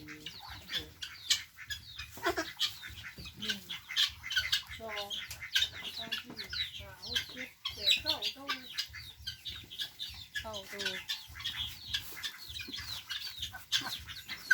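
Ducks in a wooden pen built from Payung timber quack and squawk busily, many birds calling close by in overlapping bursts while a person talks intermittently.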